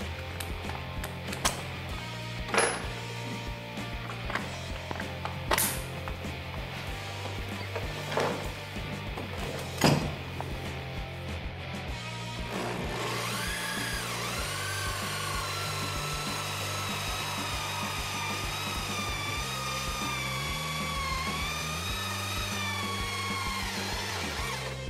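A hole saw with its pilot bit removed, guided by a template, cuts a wooden disc. It makes a continuous, steady grinding whine of teeth biting wood, with a few knocks at the start. No one speaks.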